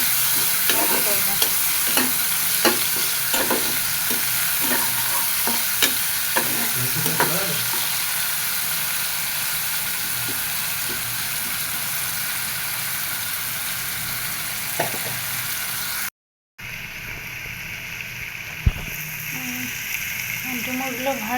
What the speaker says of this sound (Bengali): ডুমুরগুলো ভাজা হয়ে গেছে, খুব সুন্দর করে মচমচা করে ভাজে নিচ্ছে।